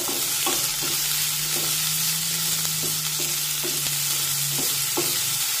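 Onion sautéing for a Maharashtrian matar (green pea) bhaji, a steady broad sizzle with regular scraping stirs of a spatula turning the pieces, plus a low continuous hum beneath.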